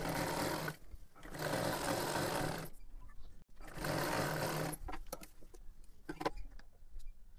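A sewing machine stitches a salwar in two loud close bursts of rapid whirring, separated by a short pause, followed by quieter clicks and handling of fabric.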